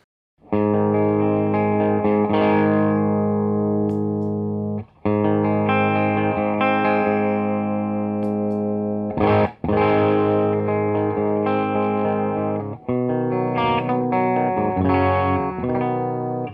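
An electric guitar plays chords and riffs through a Pastfx Canberra Overdrive pedal with the gain turned to zero, giving a mostly clean, full tone with slight grit, loud and sustained with brief pauses between phrases.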